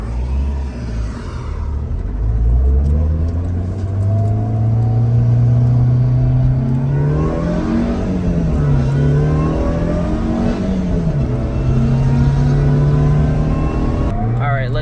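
A supercharged Subaru Vivio RX-R kei car's engine revs up as it accelerates onto the highway, then settles into a steady droning hum with constant road noise while cruising.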